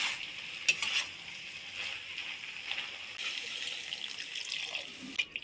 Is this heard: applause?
no